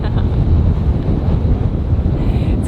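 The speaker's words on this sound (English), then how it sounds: "It's clearly very windy at the top." Strong gusting wind at a summit in the Texas Hill Country buffets the microphone with a loud, low roar that barely lets up.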